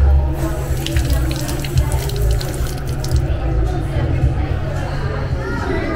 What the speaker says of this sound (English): Something cool that they have are these faucets to fill up your water bottle.